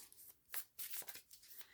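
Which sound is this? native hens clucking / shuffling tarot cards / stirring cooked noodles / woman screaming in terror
shuffling tarot cards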